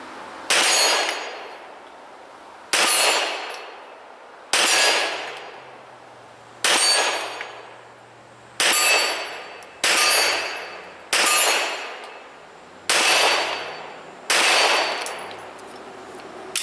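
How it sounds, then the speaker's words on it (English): Nine loud pistol shots from a Smith & Wesson M&P firing Freedom Munitions 147 grain bullets, spaced roughly two seconds apart at a steady pace, each a sharp crack with a ringing decay, with no talking. "we're going to shoot some Freedom Munitions 147 grain bullets"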